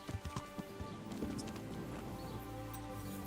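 Horse hooves clip-clop in Kingdom Come: Deliverance, a run of quiet, uneven knocks that blends into a soft, busy background of ambient noise.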